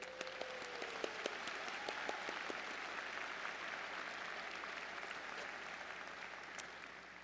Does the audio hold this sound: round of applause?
yes